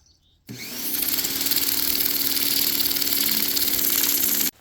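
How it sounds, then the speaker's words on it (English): A pressure washer with a spinning tip fleshing a sheep hide gives a steady, loud, hissing spray roar. It starts abruptly after a half-second pause, holds constant for about four seconds, then cuts off sharply. "we are going to flesh this hide, try to use the pressure washer method"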